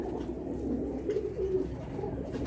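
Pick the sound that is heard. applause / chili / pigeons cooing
pigeons cooing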